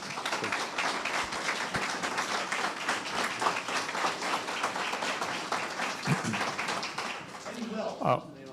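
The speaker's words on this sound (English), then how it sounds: "Please join me in a round of applause" A board candidate forum audience claps in a steady round of applause for several seconds, tapering off as a voice starts talking at the end.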